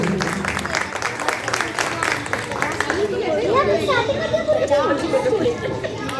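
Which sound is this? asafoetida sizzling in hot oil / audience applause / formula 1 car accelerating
audience applause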